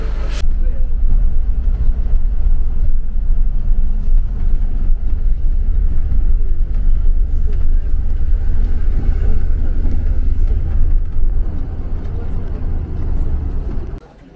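Bus climbing the road up to Machu Picchu, a steady low engine drone and road rumble filling the cabin at moderate loudness for the whole ride, fading out at the very end.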